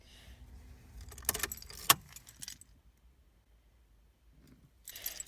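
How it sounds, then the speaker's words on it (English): Car keys on a Vauxhall jangle close up in a few sharp metallic bursts while the ignition is switched on and off, followed by near silence and a final brief rattle. "You turn the ignition on, you switch it off,"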